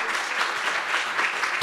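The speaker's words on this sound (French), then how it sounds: "on vous applaudit" An audience at a talk applauds briefly, a soft, even patter of many hands that ends in a louder thump.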